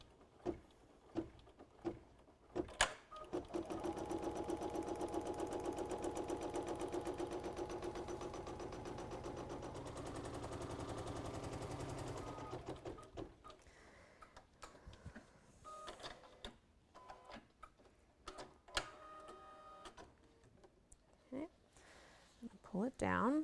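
A sewing machine stitches fabric for a crossbody bag in a steady, rapid mechanical run lasting about ten seconds, then stops. Quiet handling noises and scattered clicks follow.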